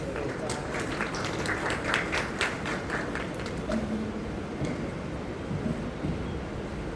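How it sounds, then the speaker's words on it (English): Applause from an audience at a college conclave as a speaker is welcomed onto the stage: steady, moderately loud crowd clapping for about seven seconds, a dense wash with some sharper individual claps. "Please welcome him with a warm round of applause"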